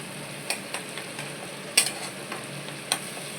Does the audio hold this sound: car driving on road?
no